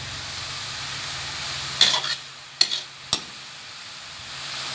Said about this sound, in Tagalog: Halo lang ng halo. Hanggang sa siya ay maluto.